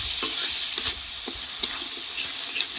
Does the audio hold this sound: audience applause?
no